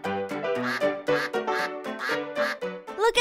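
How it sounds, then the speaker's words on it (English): A duck quacks again and again in a fast, bright run of calls, close and clear with no talk over it, on a farm in a children's animated program. "Look at that duck!"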